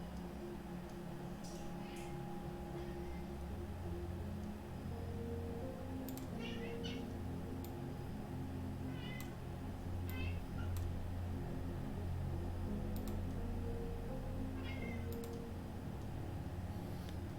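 A cat meows several times, short high calls scattered over steady background hum and faint ticking, fairly close but not loud.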